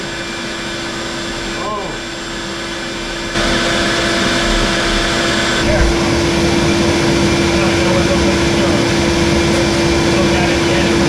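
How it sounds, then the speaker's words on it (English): Steady, loud motor whine of a vacuum cleaning out a gas boiler during a service, running continuously with a louder stretch after a few seconds, with brief spoken words over it. "Get the vacuum going."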